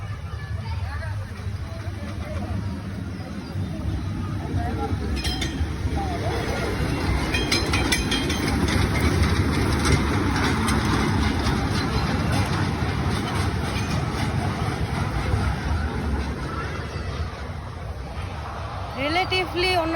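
An amusement park train ride at Dana Park in Naogaon rumbles along steadily with rolling clatter, heard under nearby crowd chatter and someone talking.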